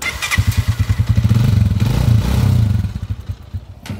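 A 175cc-converted motorcycle engine, being broken in, putters at a low, uneven idle with rhythmic pulsing thumps, loud and close, briefly rising before settling back.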